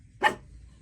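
A pet dog barks at its own reflection in a mirror indoors, one short, sharp bark close by, followed by quiet.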